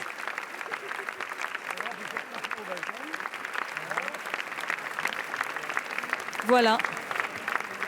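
Audience applause at the premiere screening of the comedy Coupez, a steady crowd clatter running the whole time beneath a voice, with one short spoken word near the end.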